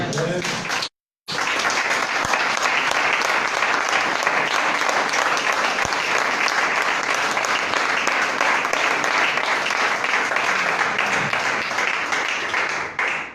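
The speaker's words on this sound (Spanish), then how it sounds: "Denle un aplauso, Señor." A church congregation breaks into loud, sustained applause after a brief pause, dense clapping and cheering voices continuing evenly at close range before tapering at the end.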